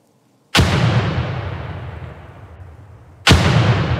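Two loud grenade blasts in the America's Army 3 grenade range, the first with a long rumbling decay lasting nearly three seconds before the second sharp detonation hits.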